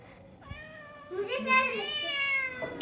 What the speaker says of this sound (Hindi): बिल्ली है तो बिल्ली म्याऊं म्याऊं करेगी ना